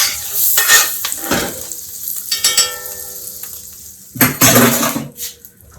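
Salmon pieces frying in a pan amid stirring and pan clatter, with sizzling bursts and utensil scrapes coming in irregular surges, loud and close, with no voices.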